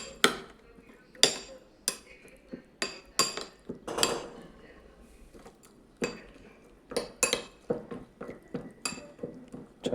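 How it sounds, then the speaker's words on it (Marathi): A spoon stirs milk into overnight oats in a bowl, giving a run of sharp, close clinks and scrapes against the dish in an uneven rhythm, with short quiet gaps between strokes. "दूध घातल्यानंतर छानपैकी मिक्स करूया"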